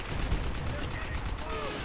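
Rapid, muffled bursts of gunfire and cannon fire during an airfield assault in the video game Call of Duty: World at War, quiet and continuous with players talking over it.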